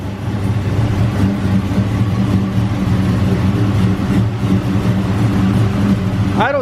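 An LS V8 engine after a cam swap idles steadily and loud up close, its lumpy, throbbing note continuous throughout with a brief higher whine at the very end.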